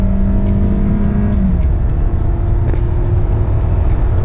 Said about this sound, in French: Regardez, là j'écrase la pédale.